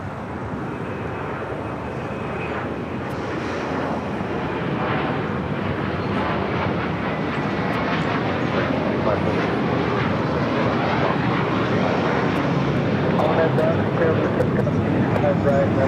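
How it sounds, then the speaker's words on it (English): An American Airlines Airbus A321neo jet airliner at LAX gives off a loud, sustained engine roar that swells gradually and stays strong to the end, with people talking faintly in the background. "American Airlines Flight 1850 and an A321 Neo heading to Miami"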